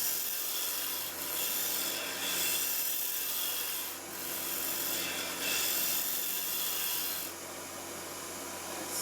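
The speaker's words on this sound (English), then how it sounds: "Nice planing cut." A hand plane shaves a wood workpiece in a rough, steady rasping rub, with brief pauses between strokes, close and continuous without talk.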